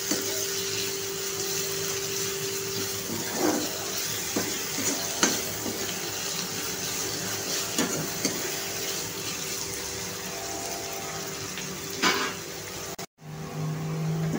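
Chopped onion fries in hot oil for a rice dish, a steady close sizzle running throughout with scattered scrapes and taps of stirring, alone with no talk.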